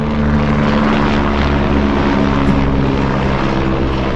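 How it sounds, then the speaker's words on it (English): A helicopter over the mountain resort of Zermatt produces a loud, steady rotor and engine drone with a low throbbing hum that holds constant throughout. "Got a helicopter."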